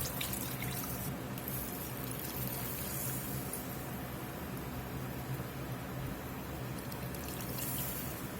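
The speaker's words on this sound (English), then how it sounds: "Get this beef broth in." Beef broth pours steadily into a cooking pot, giving a continuous, splashy liquid rush at close range with no voices.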